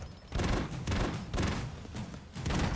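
Rapid bursts of gunfire from the video game Broforce, coming in four loud, dense volleys separated by brief gaps.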